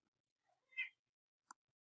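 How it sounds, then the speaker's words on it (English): A pet cat gives one short, faint meow indoors, followed by a tiny click, with near-silence around it. "please excuse my cat"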